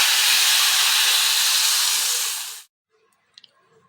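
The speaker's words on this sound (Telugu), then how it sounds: "ఇప్పుడు ఈ పోపుని ఇందులో వేసేసేయాలి" Hot tempering hits a pot of palak dal with a loud, bright sizzle that holds for about two and a half seconds, then cuts off abruptly into near silence with a couple of faint clinks.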